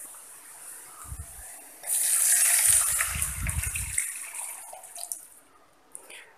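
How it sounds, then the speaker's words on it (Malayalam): Water poured into a pan while making rava upma, a steady gushing stream lasting a few seconds close by, with light clatter before and after. "ഒന്നര കപ്പ് വെള്ളം ഇതിലേക്ക് ഒഴിച്ചു കൊടുക്കാം"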